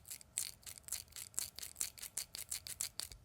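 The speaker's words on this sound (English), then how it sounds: "that sound is actually from the lens rubbing on the frame." Squeaky rubbing of Ray-Ban RB 4428 sunglasses lenses against the frame as the temples are pressed, a rapid series of about a dozen short, sharp squeaks in a steady rhythm, close up.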